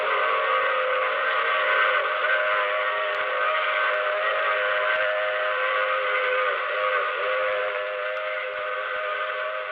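A radio drama train effect sounds out, a long sustained whistle chord over a steady low rumble of rolling wheels, continuous and fairly loud with no talking.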